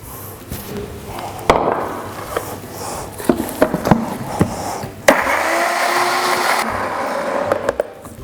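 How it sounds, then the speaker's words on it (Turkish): A blender whirs through a smoothie made with peppers, salt, lemon juice and water, running in loud bursts with a steady motor hum in between and a few clunks and knocks as it starts and stops. "En son da suyumu ilave edip smoothie'mi yapmaya başlayacağım"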